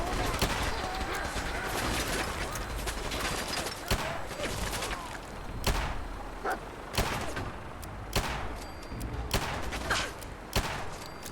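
Gunfire in Fallout 4, sharp repeated shots in irregular bursts over a busy combat soundscape, fairly close, with talk in places.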